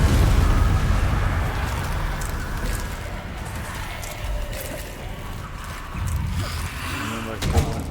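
A Confringo fire-spell blast from Hogwarts Legacy, heard as several booming bursts and pops in a row over dense game noise, fairly loud and close, with a voice speaking briefly.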